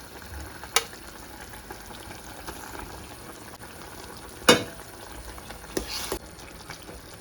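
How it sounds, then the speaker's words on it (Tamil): Bitter gourd and tomato simmering in tamarind water in a pot, a soft steady bubbling hiss broken by a few sharp utensil clinks, with no talking. "பாருங்கள், பாவக்காயெல்லாம் அவிஞ்சு கொண்டு வருது புளி இளநியில்."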